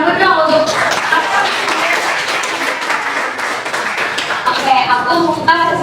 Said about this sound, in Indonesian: beri tepuk tangan dulu dong untuk